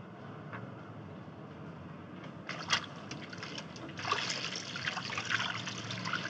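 Water trickles and splashes as clothes are washed by hand in warm water, with wet slaps and a sharper knock partway through, continuous and close over a low background rumble.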